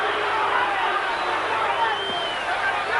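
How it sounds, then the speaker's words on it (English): A boxing crowd at the Mike Tyson vs James "Bonecrusher" Smith fight boos and roars as a steady, dense wash of noise that holds at an even level throughout. "And some booing coming from the crowd."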